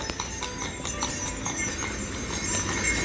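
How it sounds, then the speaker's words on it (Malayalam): A horse's hooves clip-clop in a steady rhythm of distinct knocks as it passes through Kraków's market square, heard over the murmur of an open city crowd. "ഇതാ പോകുന്നു കുതിര"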